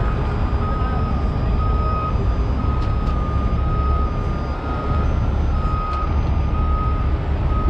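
Reversing beeps from a truck backing up to a trailer ring out steadily as a continuous high tone over a loud, constant engine rumble, with no one speaking.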